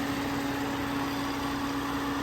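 A 2002 Saab 9-3 SE convertible's 2-liter turbocharged four-cylinder idles in a steady, even hum with a constant low whine, fairly quiet and close, with no talking.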